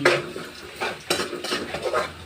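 A utensil scrapes and clinks against a pan while ricado cooks, with repeated stirring strokes in an uneven rhythm over a faint sizzle, close and clear.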